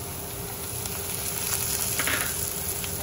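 Chopped onion and green chillies frying in a pan, a steady close sizzle with faint crackling throughout and no talk.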